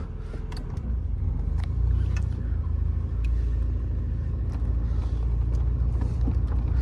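Steady low engine rumble and road noise from an Alfa Romeo 115 Spider Veloce S4 with a ZF automatic transmission on a test drive, heard from inside the car, continuous and fairly loud with faint ticks and rattles.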